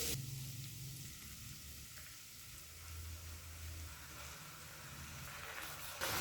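Spice paste mixed with sour yogurt added to a hot pan for a dhaba-style paneer gravy, giving a steady close hiss and sizzle with light stirring scrapes underneath.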